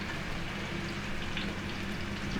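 Steady, soft sizzling of young zucchini frying in a hot pan, a constant crackling hiss with no voices.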